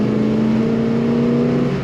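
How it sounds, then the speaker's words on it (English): A 1970 Dodge Challenger 440 R/T engine revs loudly on automatic-transmission kick down, a thick steady rumble with a rising tonal whine running through it, close and constant throughout. "Nice rumble to this car."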